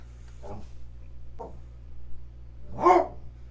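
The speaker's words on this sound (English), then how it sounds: "Don't you woof at me. Why you woof at me?" A pet dog indoors lets out a few short, soft woofs and low grumbles, two brief ones early and a louder bark near the end, over a quiet steady room hum.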